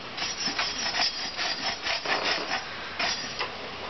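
The back of a machete blade scrapes repeatedly along wood, raising fine shavings for tinder: a steady series of short, dry rasping strokes, close and fairly quiet, with no talking.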